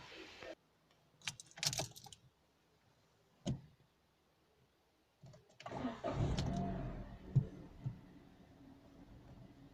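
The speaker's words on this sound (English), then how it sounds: "And now I can start the engine." A Peugeot 301 1.2 petrol engine cranks and catches around the middle, rumbling on steadily afterward after new spark plugs, preceded by a few short mechanical clicks and knocks.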